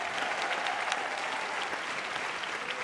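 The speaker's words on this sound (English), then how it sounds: "Give her a big round of applause." Audience applause at an awards show, a steady, dense wash of many hands clapping throughout, loud and continuous with no voices over it.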